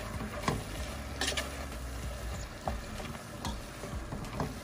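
A seafood boil sauce seasoning mix with paprika and pepper is stirred in a bowl, giving a close, continuous scraping with a few soft taps over faint background hum and no speech.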